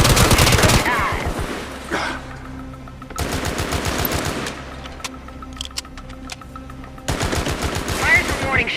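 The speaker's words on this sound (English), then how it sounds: "Fire some warning shots." Warning shots ring out in the video game Gangstar Mirage City as three loud bursts of rapid automatic gunfire, separated by quieter stretches of background game sound with scattered clicks.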